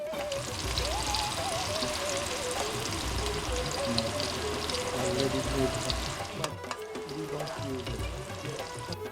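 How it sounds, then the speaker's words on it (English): Onions fry in hot oil in a cooking pot for a curry, giving a continuous close sizzle with bubbling and stirring, while a voice talks intermittently over it. "Now we will add onion. We will heat it up till the onion becomes brown."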